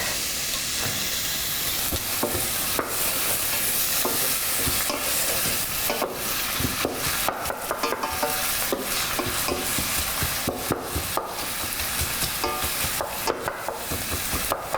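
Food sizzles in hot oil in a pan while Venezuelan and Salvadoran beef-and-cheese arepas are being made, a continuous loud crackling hiss with frequent sharp spitting pops and no talking.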